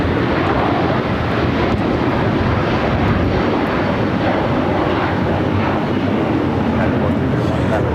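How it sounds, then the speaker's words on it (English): A United Airlines Boeing 757-300 takes off at LAX, its engines a loud, steady broadband roar that holds evenly throughout, with a faint voice now and then in the background. "This is United Airlines 1431 taking off to Honolulu on the 757-300."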